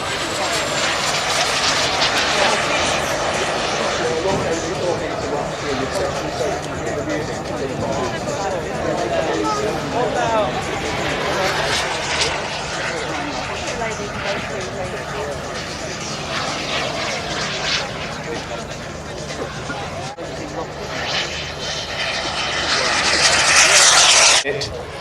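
A model jet aircraft flies at the Blackbush 2014 model aircraft show, its engine roaring steadily through the whole stretch and swelling louder near the end as it passes close, while spectators talk nearby.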